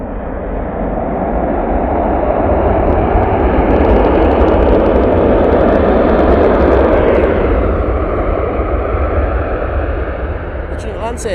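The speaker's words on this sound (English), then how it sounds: "Virgin Atlantic A330 300 now arriving." A Virgin Atlantic Airbus A330-300 airliner arriving at Manchester Airport on a chilly morning: a loud, steady jet roar that swells and holds near, then eases slightly at the end.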